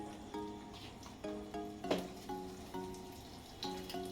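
Garlic, asafoetida and dried red chillies fry in hot ghee in a kadhai with a quiet, steady sizzle, and occasional clinks and scrapes of a spoon stirring sound over it.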